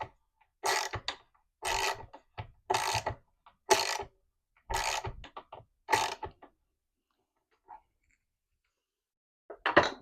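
A socket wrench ratchets a bolt on the leg of a mid-century modern dresser, heard as about seven short, close bursts of rasping clicks separated by brief pauses.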